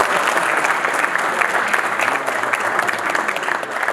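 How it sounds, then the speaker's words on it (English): Dense, steady applause from an audience welcoming Mr. Jamal Khawaja, many hands clapping continuously at close range with no voices on top. "please give a round of applause for Mr."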